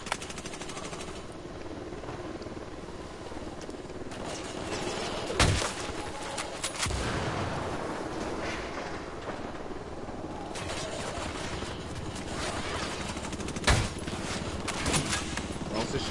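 Gunfire in the video game Ghost Recon: scattered sharp shots and bursts, several louder cracks standing out over a continuous noisy battle backdrop, moderately loud.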